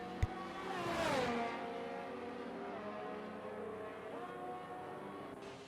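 A Formula 1 car engine in a racing video game at the Abu Dhabi circuit revs up and sweeps past around one second, then holds a steady, moderately distant droning whine as the car heads into the pits.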